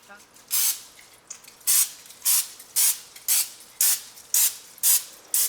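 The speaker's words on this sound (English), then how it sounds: "We're gonna spray this lightly." Short hissing bursts of cooking oil aerosol spray onto chicken fingers, about nine evenly spaced puffs, close up and fairly loud.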